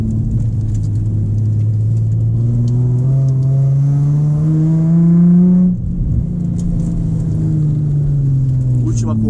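A Nissan 350Z driving a fast lap on a race track, its engine revving up loudly and steadily through the gears, dropping abruptly at a shift, then climbing again, close and dominant.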